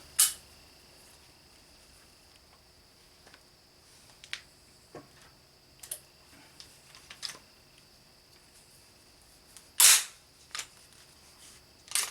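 A rifle fitted with a homemade titanium monocore suppressor fires two sharp, muffled reports about ten seconds apart, the second louder, with softer mechanical clicks and handling noises in between.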